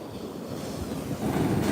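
Ocean swell washing onto a beach during a surf fishing outing, a rushing, roaring wash of water and wind that builds louder toward the end, with no voices.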